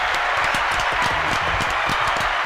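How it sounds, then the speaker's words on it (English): A small group claps for a guest on a live show, with dense, steady applause filling the whole moment at close range. "Have you got some claps there for Taiju, Taylor?"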